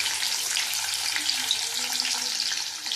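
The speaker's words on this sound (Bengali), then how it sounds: "দেখো কাঁকরোল ভেজে নিচ্ছি ডালের সাথে।" Spiny gourd (kakrol) frying in a pan with lentil batter gives a steady, loud, dense sizzle that stays even from start to finish, with no talking.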